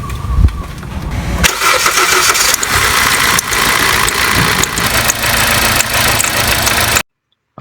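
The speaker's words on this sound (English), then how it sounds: "We're gonna start the engine and see if this thing runs smoother." A Hyundai Accent engine, just fitted with a new starter solenoid, cranks and catches after a brief pause, then runs steadily at a loud, close idle for several seconds before cutting off abruptly.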